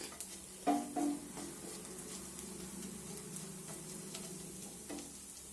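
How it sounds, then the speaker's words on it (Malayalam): Prawns and appam frying in coconut oil, a soft, steady sizzle with a couple of brief louder scrapes or stirs near the start, fairly quiet and close, no voices. "അപ്പം നല്ലതുപോലെ ഒന്ന് ഫ്രൈ ആയിക്കോട്ടെ. നമ്മുടെ ചെമ്മീൻ നല്ലതുപോലെ ഫ്രൈ ആയിട്ടുണ്ട്."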